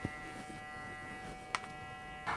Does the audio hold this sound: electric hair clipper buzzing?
yes